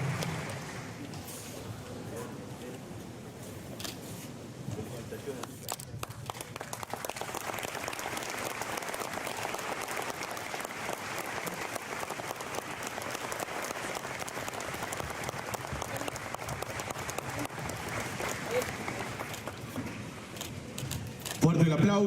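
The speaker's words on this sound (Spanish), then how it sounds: "Fuerte el aplauso" Sustained applause from a crowd at a municipal anniversary ceremony in Villa Ángela, steady and dense for over twenty seconds, with a voice over the public address near the end.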